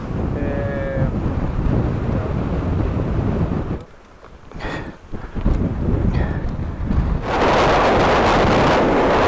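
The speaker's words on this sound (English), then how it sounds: "Dry lake bed during a dust storm." Strong wind roars over a dry lake bed during a dust storm in Morocco, a constant loud rushing that buffets the microphone, dips briefly in the middle, then surges back harder, with a faint animal call early on.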